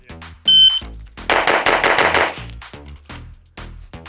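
An Infinity paintball marker fires rapid strings of sharp shots, a dense burst followed by spaced pops, close and loud.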